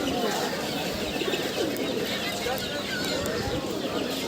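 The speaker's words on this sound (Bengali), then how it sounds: "এই যে দেখুন একটা জিরিয়া পায়রা ডাকছে" A zeriya pigeon cooing among the birds at a busy pigeon market, soft repeated calls mixed into a noisy crowd with people talking nearby.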